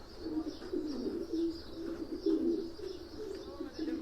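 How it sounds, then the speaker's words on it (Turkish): Racing pigeons coo softly and continuously in low, rolling murmurs, close by and fairly quiet, with faint background ambience. "Bu kuşumuzun arkadaşlar annesi de Stefli'nin kuşu."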